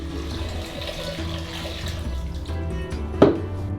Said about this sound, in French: Versons l'eau chaude dans un bol.